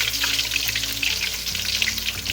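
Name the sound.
whole fish frying in oil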